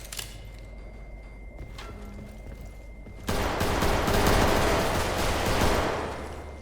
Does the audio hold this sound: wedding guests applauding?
no